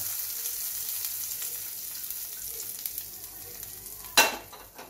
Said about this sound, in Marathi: गॅस बंद करूया आणि हा गरम तडका या चटणीवर